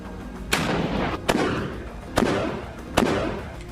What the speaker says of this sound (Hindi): वो वहीं पर अपनी स्नाइपर राइफल रखकर सामने की बिल्डिंग में मौजूद इजरायली सैनिक पर फायर कर देता है